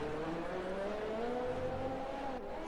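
F1 race car engine in the F1 2020 game shifting up through gears, a high steady whine rising in pitch, continuous and fairly faint.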